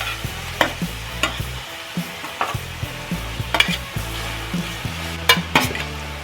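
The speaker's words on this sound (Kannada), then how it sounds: "ಕ್ಯಾರೆಟನ್ನು ನಾವು ಚೆನ್ನಾಗಿ ತುಪ್ಪದಲ್ಲೇ ಫ್ರೈ ಮಾಡ್ಕೋಬೇಕು" Grated carrot fries in ghee in a kadai for carrot halwa, with a soft sizzle and regular scraping strokes of a spatula against the pan over quiet background music.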